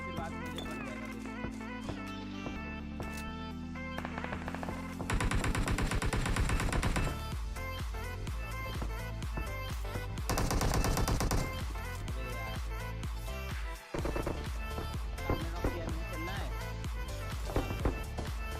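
PUBG Mobile gunfire with UMP and DP weapons, rapid automatic bursts in repeated loud stretches over game music and effects, with someone talking throughout.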